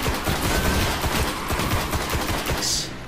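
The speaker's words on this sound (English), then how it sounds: "I like this semi-automatic rifle that they got me" Rapid, steady semi-automatic rifle fire from a player's gun in the sci-fi shooter Destiny, loud and close, with sharp shots following one another in a dense, continuous rhythm and no talking.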